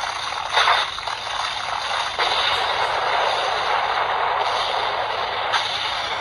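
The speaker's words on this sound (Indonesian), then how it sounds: "jadi suara ledakannya itu lebih dahsyat." A CSM Arcle henshin belt toy plays an electronic explosion effect: a steady, hissy, crackling roar that holds for about six seconds with small bursts along the way.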